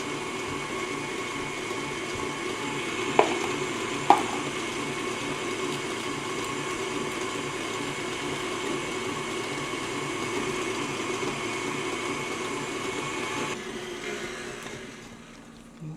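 An electric mixer set to speed 4 beats chocolate batter for a tres leches cake, giving a steady, even whir that runs unbroken for most of the stretch and winds down near the end.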